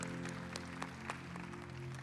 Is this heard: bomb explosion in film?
no